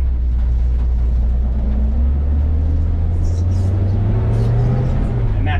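A 1939 Ford flathead V8 truck creeps along in first gear, its engine a steady loud low rumble with a slowly rising drone that runs continuously throughout, with no talking.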